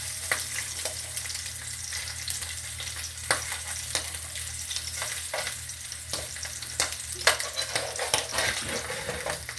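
Hot dogs frying in grease, a steady close crackling sizzle with scattered pops and spatter clicks throughout, no voices.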